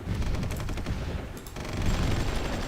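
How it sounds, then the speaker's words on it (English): Artillery fire in the war strategy game Supreme Ruler Ultimate comes as dense, rapid, rattling bursts of shots with a deep rumble beneath, loud and continuous, with a brief lull midway. "the artillery's already getting started"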